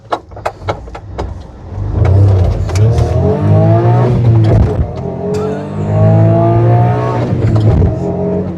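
A manual 2008 Honda Acty kei truck accelerates hard through a residential street, its small engine revving high and low-geared, rising pitch sweeping up through several gear pulls, loud and close after a few short clunks at the start.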